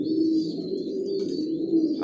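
Racer pigeons coo in a low, steady murmur, a continuous soft rolling purr close by with a faint higher background tone and no talk.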